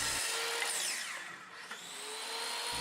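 A hand saw or power saw trimming wooden shelf legs down to 46 inches for sturdy storage shelves, a short steady cut that runs almost three seconds, close and fairly quiet with a rasping, high-pitched texture.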